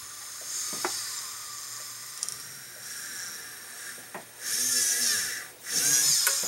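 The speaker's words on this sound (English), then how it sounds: "And you just drill a hole right through it." A small high-pitched flex shaft rotary drill whines steadily, rising into louder bursts of grinding as it drills through a piece of silver, close by with no talking.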